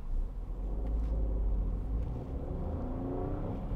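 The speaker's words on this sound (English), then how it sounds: "nice buzzy sound from the Citroen engine" A 2016 Citroen C3 Picasso with the 1.2 PureTech engine drones steadily while driving at around 50 mph, a continuous low engine rumble with road noise inside the cabin, no speech over it.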